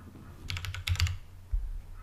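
Quick bursts of typing on a computer keyboard, close and quiet, with several rapid key clicks in a cluster and a few heavier taps, heard alone while an email address is entered into a Windows 10 Mail app.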